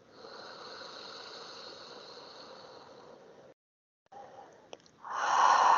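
Slow, steady breaths drawn in and let out during a guided EFT tapping breathing exercise, a soft continuous airy hiss close to the microphone that pauses briefly before a louder, fuller breath swells at the end.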